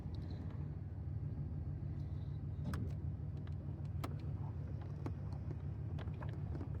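A van pulling away under steady low engine rumble that holds throughout, with a few faint clicks and knocks on top and no talking.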